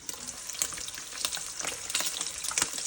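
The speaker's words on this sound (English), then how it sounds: "the first thing we're gonna fry up is our sausages" Sausages fry in olive oil in a frying pan, giving a close, steady sizzle with crackling spits and pops throughout.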